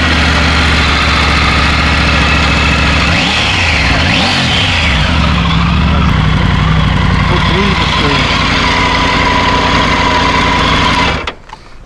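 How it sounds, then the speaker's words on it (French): A Triumph Tiger 900 GT motorcycle engine runs loud and close with a steady idle and a couple of brief revs, then cuts off abruptly near the end. Voices talk over it. "Attention, ça va bouger. Oui, faut maintenir l'embrayage."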